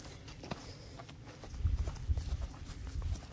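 Donkey hooves clip-clop on the ground in the Bordeaux countryside, faint at first, then a run of soft, close, low thuds in the second half.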